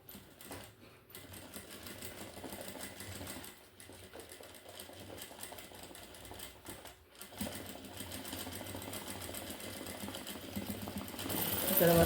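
Sewing machine stitching a heavily embellished work blouse, running in a steady continuous whir with a brief pause and a louder burst near the end.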